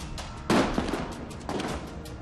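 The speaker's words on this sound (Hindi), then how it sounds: "सुरक्षा बलों ने बेकाबू प्रदर्शनकारियों को रोकने के लिए आंसू गैस के गोले दागे और हवा में रबड़ की गोलियां चलाई" Tear gas shells and rubber bullets fired by security forces during a riot in Athens, sharp bursts over a dense roar of crowd and street noise.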